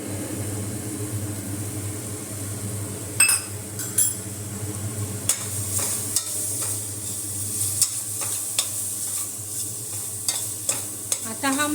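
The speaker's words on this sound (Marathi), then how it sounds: "मसाला पण आपल्याला साधारण पाच ते सहा मिनटं चांगला परतून घ्यायचा आहे" Chole masala with tomato, Kashmiri red chili and spices sautéing in a pan, a continuous close sizzle with a spoon scraping and clinking against the pan at irregular intervals.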